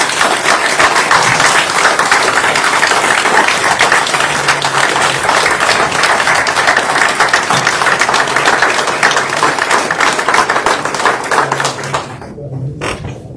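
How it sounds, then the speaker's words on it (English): Sustained applause fills a council meeting chamber for a retiring employee after 31 years of service, with many hands clapping densely and evenly before it thins out at the end. "So let's give him a round of applause."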